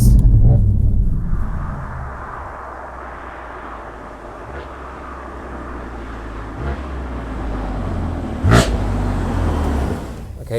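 A BMW F80 M3 running on a road in Sport Plus mode, fitted with Bilstein B6 EDC adjustable dampers, gives a steady low engine drone and road rumble throughout, with a brief louder swell near the end.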